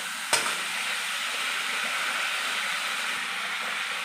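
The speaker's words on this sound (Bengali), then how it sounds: "ভালো করে মশলাগুলো দিয়ে একটু কষে নিতে হবে যতক্ষণ না তেল ছাড়বে।" Spices are stir-fried in hot oil for a cauliflower roast, making a steady, fairly loud sizzle that runs throughout, with one sharp clink near the start.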